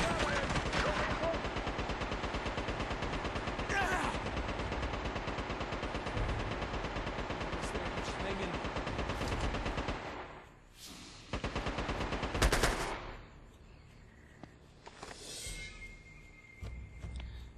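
Rapid gunfire in the handheld action game Uncharted: Golden Abyss, a dense, loud burst of shots that stops abruptly, then a short renewed volley, then quieter game ambience.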